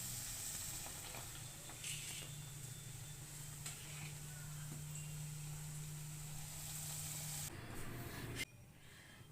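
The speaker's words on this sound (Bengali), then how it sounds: "এইভাবে আমি প্রত্যেকগুলো ভেজে নিয়েছি" Egg and semolina snacks fry in a pan of oil, giving a steady close sizzle and hiss with faint stirring scrapes, ending abruptly as the sizzling cuts off near the end.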